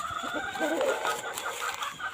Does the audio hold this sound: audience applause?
no